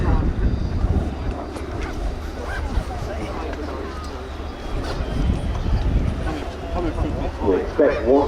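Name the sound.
jet aircraft passing at airshow, 20,000 pounds of thrust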